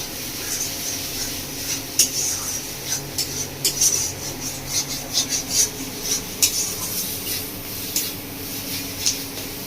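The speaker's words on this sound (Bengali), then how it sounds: "ভালো করে মশলা একসাথে কষিয়ে নেব" Spices being stirred and fried in a pan for village-style Bengali chicken curry, a steady sizzle with irregular scraping clicks of a spoon against the pan, close and moderately loud.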